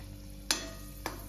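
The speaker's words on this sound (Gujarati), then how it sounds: "જો આપણે કાસરી તળીએ છે" Kasari frying in oil in a home kitchen gives a soft, steady sizzle, broken twice by a short, sharp scrape or clink of stirring.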